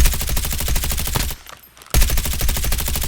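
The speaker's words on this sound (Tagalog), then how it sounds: "Meron bumabaril doon, ayun o." Rapid automatic gunfire in a battle royale video game, loud sustained bursts of rattling shots close by, broken by a short lull before the firing resumes just as intensely.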